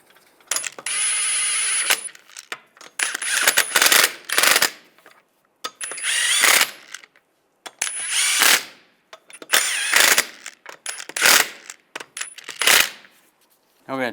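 Lug bolts on a 1999-2005 Volkswagen Jetta wheel are spun in with a power tool or ratchet in repeated short bursts: bright metallic whirring and clicking, close by, separated by brief pauses, with no talking.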